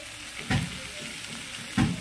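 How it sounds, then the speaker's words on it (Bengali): Mixed vegetables with a ginger spice paste fry quietly in a pan under a soft, continuous sizzle, broken by two distinct scraping stirs of a spatula, close by with no talking. "আর এই মশলাটা দিয়ে ভালো করে এবার নাড়িয়ে চাড়িয়ে নেব"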